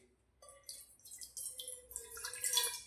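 Water poured into a cooking pot to make tea at home, a soft trickling and splashing that builds gradually and grows steadier, fairly quiet and close, with no talking.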